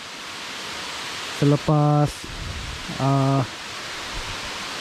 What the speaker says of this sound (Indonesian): air terjun yang pertama, Malas Kalas, air terjun Malas Kalas kata nama dia